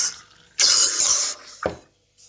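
A single harsh, loud cough bursts out, followed by a shorter second cough a moment later, with quiet breathy noise around them and no speech.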